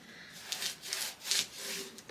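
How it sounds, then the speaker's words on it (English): Paper being burnished down onto an album cover with repeated soft rubbing strokes, several scratchy swipes in an uneven rhythm, close and fairly quiet. "Burnish that down."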